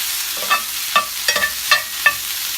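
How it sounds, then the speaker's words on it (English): Mushrooms sauté in a pan with a soft, steady sizzle, punctuated by about six sharp scrapes and taps of a utensil stirring them, close and clear with no talking. "Just going to mix this around and let this saute for about another minute before I add the red onions."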